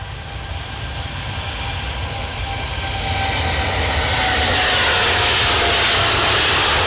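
An Airbus A320neo jet airliner takes off at Edinburgh airport, its engine roar building steadily from a broad rumble to a loud, bright rushing sound, heard from a distance with no talk.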